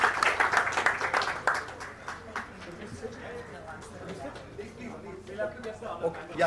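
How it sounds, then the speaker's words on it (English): Audience clapping at an AI business forum panel session, strongest at the start and thinning into scattered claps under voices talking. "Another round of applause for us."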